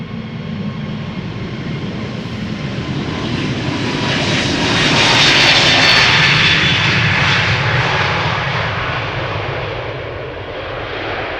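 An airliner departs Amsterdam Schiphol Airport, its engines roaring loud and broadband, swelling to a peak midway and then slowly easing off as it climbs away, with no voices.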